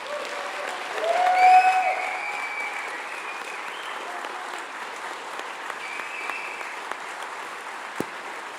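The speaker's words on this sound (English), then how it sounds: "Can we have one more large round of applause?" Audience applauding after a debate on whether Jesus existed, broad steady clapping with a brief swell of cheering near the start, then even applause continuing to the end.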